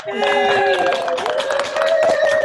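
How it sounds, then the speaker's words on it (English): A worship group applauds over an unmuted video call, a dense jumble of clapping from many remote participants mixed with overlapping voices and tones, steady and fairly loud throughout. "give yourselves a massive round of applause again, and we'll hear it on the unmute"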